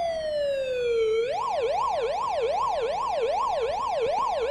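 A synthetic ambulance siren in Fortnite Creative first glides down in pitch, then settles into a steady rapid up-and-down wail, loud and continuous with no talking.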